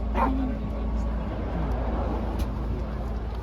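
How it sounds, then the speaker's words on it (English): A dog barks and yips outdoors on the Ring of Kerry in Ireland, short sharp barks early on amid steady wind and road rumble, while people talk nearby. "Where's the dog? Oh, he's over there."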